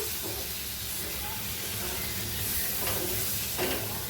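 Tomato and curry leaves sizzling in a pan while being stirred for squid masala, a steady hissing fry with faint scraping strokes.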